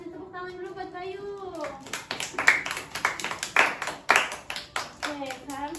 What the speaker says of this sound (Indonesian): Kasih tepuk tangan dulu buat Bayu.